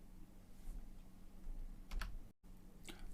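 A computer mouse clicks while operating iTrain model railway control software: a few sharp, faint clicks close by over a quiet room hum.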